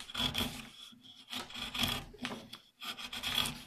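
Short rasping cuts from a blade carving the bowl of a wooden spoon, coming in close, uneven bursts with brief pauses between them.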